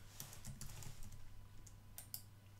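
Quiet, irregular clicks of fingers typing on a computer keyboard, in short bursts with brief pauses and no talking.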